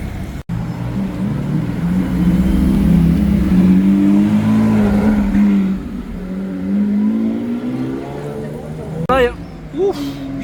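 A matte black Lamborghini Huracan with no front plate, out carspotting in Monaco, gives a loud steady engine drone close by, ending in a couple of short sharp blips as it revs away.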